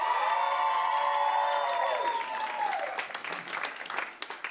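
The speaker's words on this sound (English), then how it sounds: "That is applause well spent." Audience applause with cheering and whoops for cameraman Josh at a stand-up comedy show, a dense loud wash of clapping with rising shouts that thins into scattered claps toward the end.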